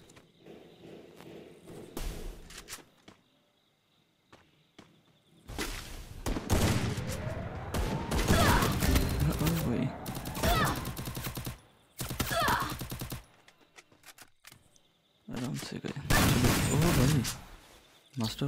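Gunfire from a shooting video game, with bursts of rapid shots and single cracks at short and long range, spread across the clip between quieter stretches with faint footsteps.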